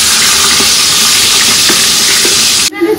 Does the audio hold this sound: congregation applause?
no